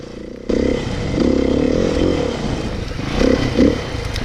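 A Beta RR big bore four-stroke dirt bike ridden through the bush, its engine loud and close with rising revs and brief surges, plus some clatter from the trail.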